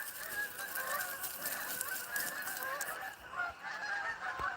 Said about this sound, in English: geese. Look at them all.